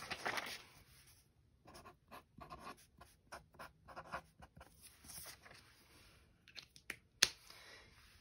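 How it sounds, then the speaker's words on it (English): Pencil writing on paper during a fractions maths lesson, quiet scratchy strokes in short irregular bursts with soft taps, close and faint, with no voices. "Let's write it on our paper."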